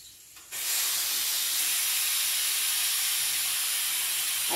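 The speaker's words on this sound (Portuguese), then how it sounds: "é a panela de pressão ali que tá saindo a pressão" A loud, constant hiss of steam escaping from a pressure cooker cooking beans starts abruptly and holds steady throughout, with no voices.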